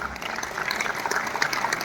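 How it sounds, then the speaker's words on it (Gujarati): Steady, dense applause from an audience at a dance school's annual function closing ceremony, honoring accompanying musicians, sustained at moderate loudness throughout. "ખૂબ જોરદાર તાળીઓ"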